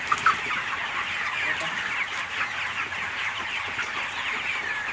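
Chickens on a poultry farm, birds roughly 35 days from sale, making a steady, dense mass of clucking and chirping that fills the space continuously at moderate level, with no talk.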